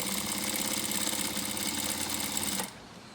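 A sewing machine stitching a kurti drawstring cord, running in a fast, steady mechanical whir close up, then stopping abruptly near the end.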